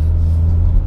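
A 2017 Renault Sandero RS Racing Spirit with short gearing accelerates, its engine giving a loud, close, steady low rumble with no pauses and no talk.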